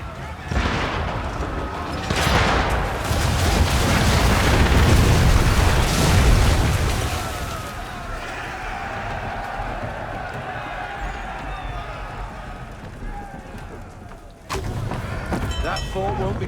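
Mortar shells burst in Assassin's Creed 3 Remastered, a run of loud booming blasts in the first half giving way to lingering battle rumble and scattered noise, with another sharp impact near the end.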